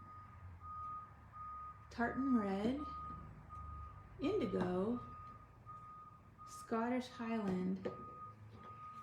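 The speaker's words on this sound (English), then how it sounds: "Sorry about the beeping. I have no idea where that's coming from" Faint, evenly spaced vehicle reversing beeps sound in the background of an indoor art-journaling session, steady under intermittent speech.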